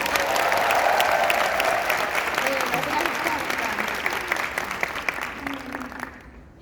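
A large convention audience at a Nu Skin Korea regional meeting applauds the company's staff, a dense, sustained clapping that gradually fades toward the end, with a voice speaking briefly over it.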